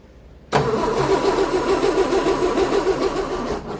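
A G60 engine with a carburettor, just repaired after a fuel leak, catches abruptly and settles into a loud, steady running drone close by.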